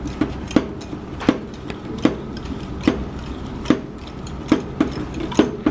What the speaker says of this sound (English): Whisk it up.